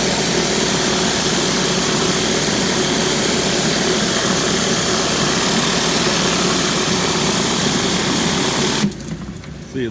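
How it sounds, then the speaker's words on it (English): A power washer engine runs steadily during concrete pool deck cleaning, a loud continuous droning roar with a dense hiss that holds constant for nearly ten seconds before dropping away abruptly near the end. "Our power washer is way out in the street."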